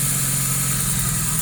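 A repaired car engine idling smoothly with no misfire after the third cylinder was fixed, a steady even hum running throughout at close range.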